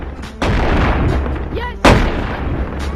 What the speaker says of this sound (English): I got my double shotguns back.